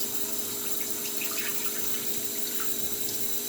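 Starchy rinse water being dumped out: a continuous, close rush of pouring water with light splashing, steady throughout.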